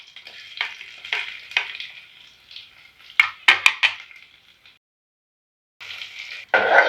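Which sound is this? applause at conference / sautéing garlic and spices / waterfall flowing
sautéing garlic and spices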